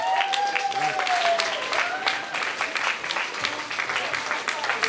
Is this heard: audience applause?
yes